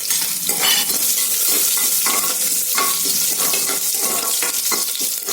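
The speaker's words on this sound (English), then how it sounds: "now I'll add in the curry leaves" Curry leaves frying in hot ghee for ghee rice: a loud, continuous crackling sizzle with bright hiss and scattered pops, steady throughout without speech.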